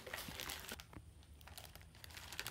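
A hard plastic bag crinkles and crackles while a DNA model kit is unpacked, quiet, continuous rustling with scattered sharp ticks and crackles, heard close up.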